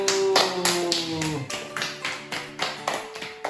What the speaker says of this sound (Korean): 성공 박수.